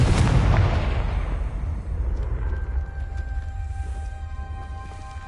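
A loud blast from the Confringo spell in a Hogwarts video game, hitting at once with a heavy boom, then a long rumbling decay while a faint tonal hum lingers.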